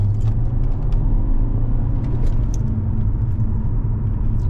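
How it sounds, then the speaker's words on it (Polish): A Mercedes CLS accelerates, heard as a loud, steady low engine rumble and road drone from close by, continuous throughout with faint high ticks over it. "Musimy sprawdzić przyspieszenie naszego auta."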